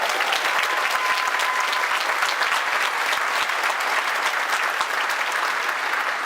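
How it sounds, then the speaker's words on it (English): Steady, loud applause from a graduation ceremony audience, dense clapping from a large crowd that continues without a break. "Let's give them a big round of applause."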